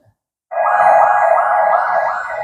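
A fire truck siren starts abruptly after a brief silence and holds a loud, steady wailing tone close by, with no talk over it.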